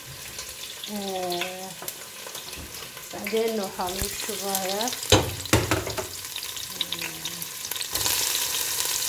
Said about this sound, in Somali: waxaan rabaa maanta inaan sameeyo bariis cadcad kalaas waxaa lagu daray biyo iyo cusbo iyo saliida lagu karinayaa